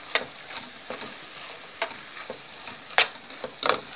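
Tomato sauce for a tilapia lasagna cooks in a pan with a soft, steady simmer, broken by irregular stirring clicks and taps of a utensil against the pan, close and moderately quiet with no talking.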